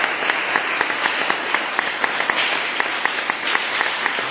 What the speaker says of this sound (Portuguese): eu peço à igreja que aplaude o Senhor Jesus pela vida do nosso presidente